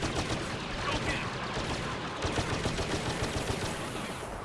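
Rapid blaster fire crackles and pops nonstop through a Star Wars Battlefront (2015) Hero Hunt match at Dune Sea Exchange, dense and loud, with overlapping shots and battle noise and no clear break.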